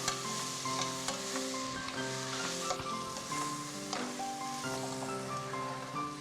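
Soaked rice goes into a hot pan and sizzles loudly, a bright, continuous frying hiss with stirring scrapes, while steady music plays underneath.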